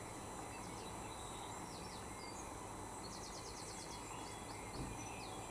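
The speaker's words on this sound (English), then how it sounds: "Can you hear the birds, guys?" Faint birds chirp and trill in short bursts over a steady outdoor hiss, distant and scattered across the whole stretch.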